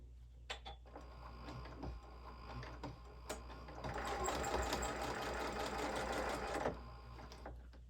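A sewing machine stitching a pet sling pouch, running in a steady mechanical whir that grows louder and busier midway through, then drops back to a softer hum with a few clicks.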